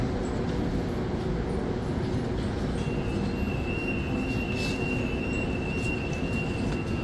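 A train moving through a snowy station, its steady broadband rumble of wheels and carriages continuous throughout, with a thin high wheel squeal appearing partway through and holding to the end.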